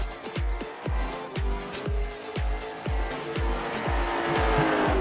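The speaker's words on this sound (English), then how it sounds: "Casey Quigley out on the speedway here in the number 27 machine." Late model race cars on the Kern County speedway roar loudly and continuously, with engine notes pulsing in a steady rapid rhythm as they power around the track, close and with no talk.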